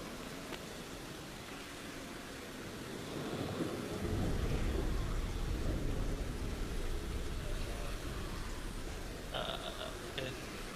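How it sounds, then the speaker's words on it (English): Loud thunder rolls in from down the street during a rainstorm, a deep sustained rumble rising over steady hissing rain, with no voices. "Bob, you hear a loud thunder come from down the street"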